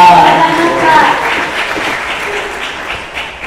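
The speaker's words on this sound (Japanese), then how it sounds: "大きな拍手をお願いいたします" An audience claps warmly at a Web3 summit pitch event, loud and close at first, then fading. A host's voice speaks over the clapping.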